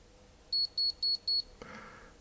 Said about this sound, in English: And the alarms come on